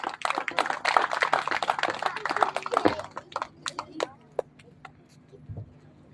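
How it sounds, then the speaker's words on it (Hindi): Audience applause at a speech competition: a dense burst of many hands clapping that swells for a few seconds, then thins out into scattered claps and fades away. "जोरदार ताली"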